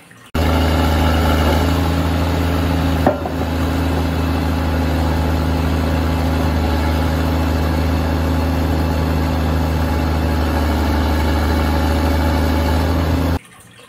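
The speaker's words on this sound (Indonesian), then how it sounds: "Wow, ini mobil penjepit kayu." A toy log loader truck gives a steady, continuous engine-like drone with a constant low hum, close and unbroken for over twelve seconds apart from one brief click.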